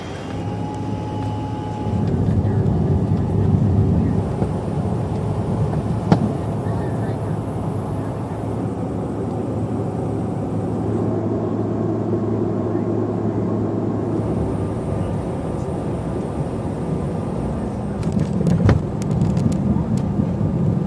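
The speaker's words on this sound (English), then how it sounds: "Looks like we now have an airplane." Airliner at Minneapolis–St. Paul airport, a steady loud engine roar and hum filling the whole stretch, with a brief sharp click midway and speech faintly underneath.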